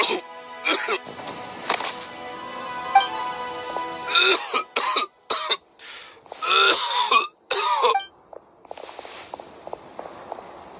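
A Genshin Impact character coughs in several harsh bursts, with throat clearing in between, against quiet game sounds and soft footsteps.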